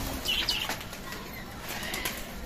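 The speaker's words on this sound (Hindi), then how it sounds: "मैं कबूतर खोलने जा रहा हूँ" Pigeons released from a rooftop loft in Karachi flap their wings in soft, fluttering bursts over steady outdoor background noise, with faint bird chirps mixed in.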